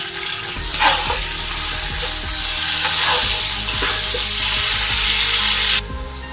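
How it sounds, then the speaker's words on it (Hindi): Onions sizzling and frying in a pan until golden brown while cooking a white bean lobiya dish, a steady loud hiss broken by repeated stirring scrapes and clinks of a spoon against the pot. "इनको हम गोल्डन ब्राउन करेंगे।"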